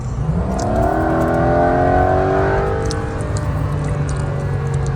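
A 2025 Porsche 911 GTS T-Hybrid engine revs up loud and close, its pitch rising steadily, then holding high before easing slightly.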